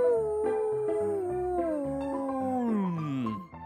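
A dog howls in one long, wavering cry that slides slowly downward in pitch, loud and close, trailing off into a short whimper at the end.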